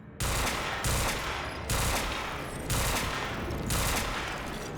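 Gunfire in the video game Quantum Break: five loud, evenly spaced bursts of shots about a second apart, each dense and sustained like automatic fire, with no pauses of silence between them.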